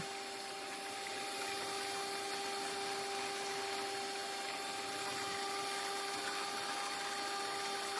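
Steady, continuous whir of an electric mixer blending coconut milk with sugar, a constant motor drone with a faint high whine, running unbroken and alone with no talk.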